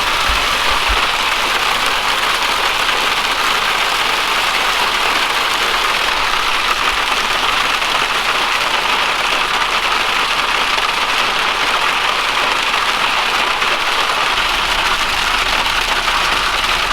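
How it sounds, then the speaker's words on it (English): Hail pelting down steadily in Vancouver, a dense, continuous hiss of ice striking surfaces at close range, with a low engine idling underneath and no talk. "Look at the hail."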